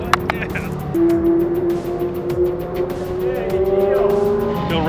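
Cars on a race track near Las Vegas roar past during hot laps, engines revving with a brief tire squeal, while people talk over the noise.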